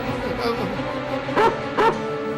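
A dog whimpers and yips in the background, then gives two short barks in quick succession close by.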